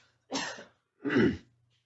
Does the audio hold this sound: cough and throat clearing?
yes